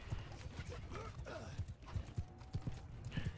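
Hooves clip-clop rhythmically in a steady trot from several horse archers in a Mount & Blade Game of Thrones mod battle, with a faint whinny and some game-style ambience underneath.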